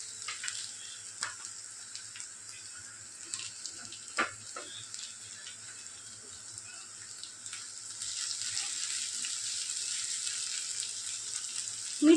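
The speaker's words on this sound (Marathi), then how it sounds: "टोमॅटो घालते आता मी." Tomatoes go into a pan of golden-brown fried onions for a Bombil Kanda dish, a steady bright sizzle with faint stirring clicks that grows louder and fuller partway through.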